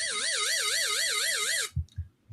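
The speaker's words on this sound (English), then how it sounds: "The answer is, soon as this little beep," A loud electronic quiz-show tone warbles steadily for under two seconds on a trivia game show, then cuts off sharply, followed by a few soft thumps.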